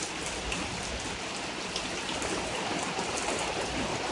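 Heavy rain pours steadily during a thunderstorm, a dense, continuous hiss of drops drumming on surfaces close by, with no voices over it.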